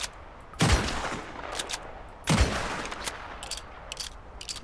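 Two loud, booming gunshots in Red Dead Redemption 2, spaced about two seconds apart, each with a rolling echo that fades over quiet outdoor ambience, heard nearby with no voices.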